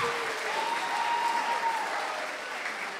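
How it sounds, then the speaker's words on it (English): A crowd at a college house haka competition gives a round of applause after a haka performance: steady, dense clapping from many hands that stays even throughout and fades slightly toward the end. "first round of applause, right?"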